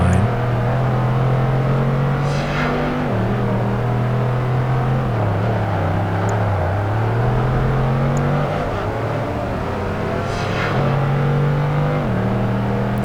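Race car engine in Project Gotham Racing 2 drones steadily on a bumpy track, pitch rising through gears and dipping on shifts, with brief clattering bumps and no talk.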